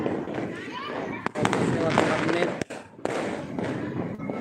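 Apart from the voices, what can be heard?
fireworks and firecrackers exploding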